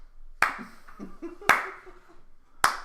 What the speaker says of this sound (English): The slow clap made it.